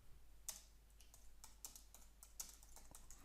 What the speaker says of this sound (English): Just type, click and type.